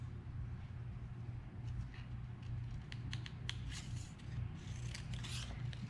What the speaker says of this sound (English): I'm cutting into that corner because it makes it easier.